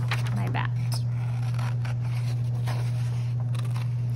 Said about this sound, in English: I just want to try my best to cut on the outside of my bat.